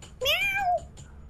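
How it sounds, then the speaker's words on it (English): A single pet cat gives one clear, rising-and-falling meow close to the microphone, lasting about half a second, with quiet room sound before and after. "Oh, can you hear my cat?"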